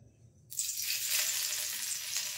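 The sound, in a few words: garlic frying in oil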